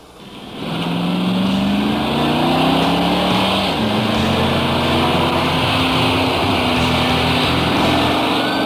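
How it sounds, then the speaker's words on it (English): Car with a GM Turbo 400 automatic transmission pulling away at three-quarter throttle, engine roaring and climbing in pitch, then dropping firmly on an upshift before rising again, loud and close with no voices. "try some upshifts at 3/4 throttle to see how the shifts get firmer with throttle"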